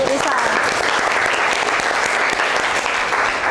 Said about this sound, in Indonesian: kasih tepuk tangan untuk Risa.